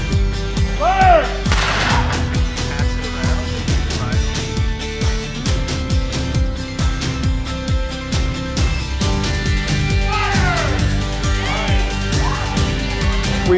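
Booming volley fire at a Civil War reenactment, with repeated musket and cannon-like blasts over a dense, continuous rumbling mix, loud and layered, with a few voices in the background.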